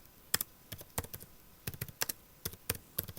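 Someone types on a computer keyboard, giving quiet, close, irregular clicks and taps in short bursts, with no talking.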